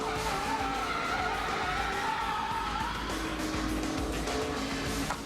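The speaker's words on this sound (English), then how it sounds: "Red Sherman goes around off turn 4 and almost gets clobbered by the 38 car, but not quite." A NASCAR Busch Series race car spins off turn 4 at the 2005 New England 200, producing a continuous loud skid and tire squeal over roaring engines that lasts the whole stretch without letup.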